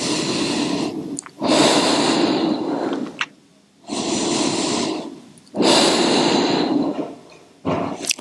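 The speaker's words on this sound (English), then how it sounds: "Take 3 more full breaths." Deep full breaths during a yoga session, four long airy inhale-exhale cycles in a steady rhythm, close and fairly loud, with short quiet gaps between them.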